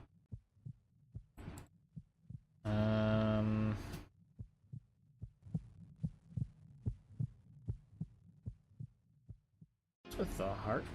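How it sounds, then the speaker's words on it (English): A steady thumping heartbeat from a game in development, regular paired beats near and clear throughout, with a loud tonal burst partway through and another sound cutting in at the end. "What's with the heartbeat there?"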